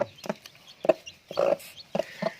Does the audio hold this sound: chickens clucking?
yes